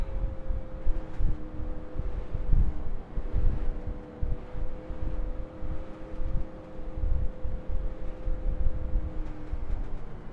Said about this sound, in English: you hear my fan going in the background.